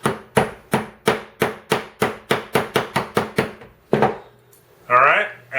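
Hammer strikes driving a pin back into an SKS rifle, a rapid run of about a dozen sharp metallic taps in steady rhythm, then a pause, one more blow and a brief scraping sound at the end.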